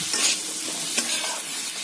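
Food frying in a pan with turmeric and salt, stirred briskly with a close, airy sizzle and scraping strokes, short and unbroken by speech.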